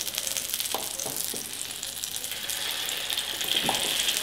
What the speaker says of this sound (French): Comme pour le pain perdu, on va le faire cuire dans le beurre.